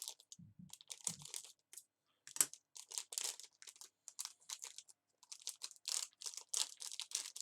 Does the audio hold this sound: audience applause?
no